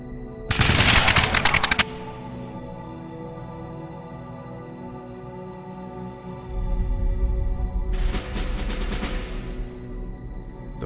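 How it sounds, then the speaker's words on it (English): A volley of firing-squad musket shots at a Continental Army execution for sedition: two sharp bursts of crackling gunfire, the first near 0.5 seconds and the second near 8 seconds, separated by a low rumbling quiet. "under penalty of death themselves, ordered to shoot. This time, the shots find their target."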